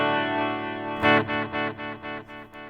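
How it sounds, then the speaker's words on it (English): Electric guitar through a Line 6 Pod Express ping-pong delay set to mono, a held chord followed by a fresh strum that repeats in about six evenly spaced, fading echoes, pulsing like tremolo. "Kind of sounds like a tremolo, honestly, with you know, no stereo sound."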